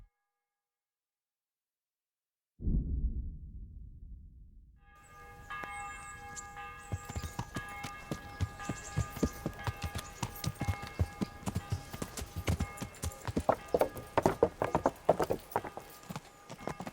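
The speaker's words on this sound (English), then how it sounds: "There's his horse." Horse hooves clip-clopping in the video game Kingdom Come: Deliverance: a steady, rhythmic patter of hoofbeats that grows gradually louder, under ringing bell-like tones, following a brief low rumble.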